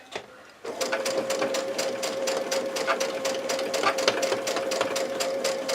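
A sewing machine stitches a seam on a cross-style quilt block, starting after a brief quiet moment and then running steadily with a fast, even chatter up close.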